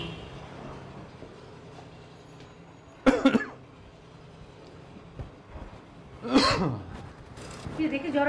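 A person with a lingering cough coughs in two harsh bursts in a domestic Bangla drama scene, close and loud over a low steady background rumble.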